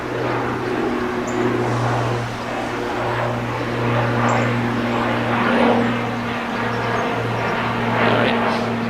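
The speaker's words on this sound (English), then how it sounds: "Oh, that's like more of a military plane." A military plane passes overhead outdoors beside a canal, a steady broad engine roar with a low hum underneath that swells and fades slightly over several seconds, heard from a distance without talk.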